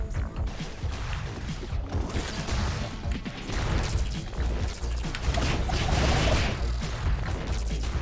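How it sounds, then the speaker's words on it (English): Dense bursts of crashing, booming blasts and debris in the video game Doomsday Hunters keep overlapping for several seconds, loud and close, with game action continuing throughout. "those explosions are good"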